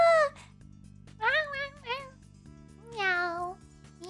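A person imitates a cat with several drawn-out, high, sing-song meows that rise and fall, each one separate, heard close over a low steady background hum.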